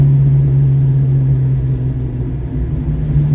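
Foxbody Ford Mustang braking hard on the road after a caster camber plate swap, heard from inside as a steady loud low rumble and road drone running through the whole stretch without talk.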